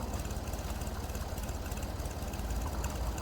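A tractor engine idles in a steady, low, rhythmic chug with a knocking pulse, close and continuous throughout.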